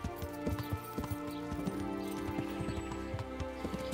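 Rhythmic clip-clop of horse hooves at a steady trot in the video game Kingdom Come, fairly close, over a low musical background.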